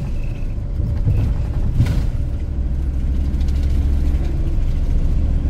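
A heavy truck engine rumbles loudly and continuously at a low pitch, running close by.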